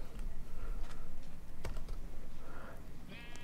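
A sheep bleats once near the end in the Minecraft video game, a short bright call rising over a busy background of game sounds and clicking.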